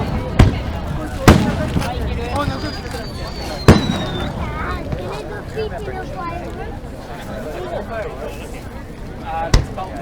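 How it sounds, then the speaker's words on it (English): Fireworks burst in a series of sharp, loud booms, one after another, with a whistling rocket rising between them and a crowd murmuring underneath. "they're not easing off on the boom, on the fireworks"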